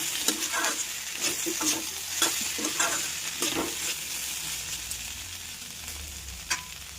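Vegetables sizzle in a hot pan with cumin powder, a steady low frying hiss broken by irregular scraping stirs close to the microphone, with no talking.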